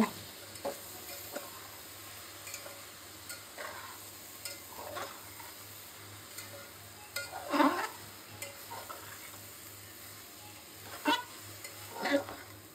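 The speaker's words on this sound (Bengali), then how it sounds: "এখন নেড়ে দেবো, ভালো করে নাড়বো।" Lentils stirred in a frying pan, with soft scraping strokes and a faint sizzle throughout, several louder stirring scrapes standing out near the middle and end.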